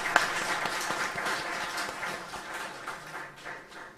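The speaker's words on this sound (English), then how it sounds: "give yourselves a round of applause" Audience applause at a research conference, a broad wash of clapping that carries steadily at moderate loudness through the whole stretch and thins slightly toward the end.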